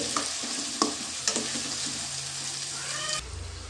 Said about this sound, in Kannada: ಇದು ನೋಡಿ ಚೆನ್ನಾಗಿ ಫ್ರೈ ಆಗ್ತಾ ಇದೆ